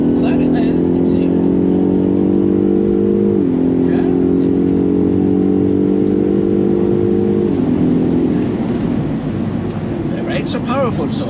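A modified Polestar 1 driving on a test area, its steady engine and drivetrain drone holding near and loud, with pitch shifts as it changes speed; voices talk over it.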